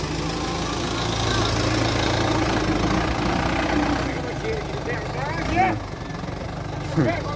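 A tractor engine idles and runs nearby during a pumpkin harvest in Israel, a steady mid-pitched mechanical drone with a rising rev near the end, and voices talking over it.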